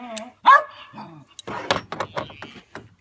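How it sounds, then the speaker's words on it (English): A dog barks in a few sharp, loud bursts nearby in a garage during a catch can install on a Challenger 392, with someone talking over and between the barks. "let your dog bark at you"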